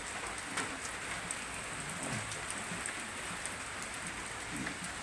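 Steady rain falls and patters on surfaces, a soft continuous hiss with scattered drips, no voices.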